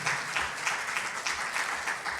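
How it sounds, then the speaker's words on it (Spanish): A church congregation gives a steady round of applause as an offering of praise, a dense continuous patter of clapping at moderate distance. "Denle una ofrenda de palmas al Señor por su amor y por su misericordia"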